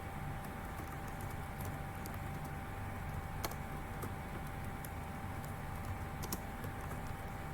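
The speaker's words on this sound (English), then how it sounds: "I can start typing my text here" Typing on a computer keyboard while writing in Google Docs: quiet, irregular key clicks over a steady hum, with no voices.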